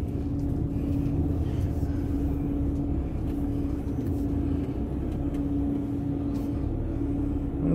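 Car tires rolling on concrete give a continuous low rumble with a steady droning hum, moderately loud and unbroken for several seconds.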